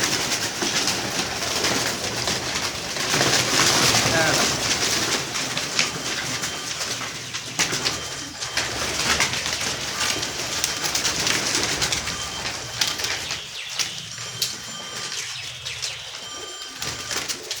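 Pigeons coo steadily on a rooftop, their soft repeated calls filling the whole stretch over a busy, continuous background of rustling and movement.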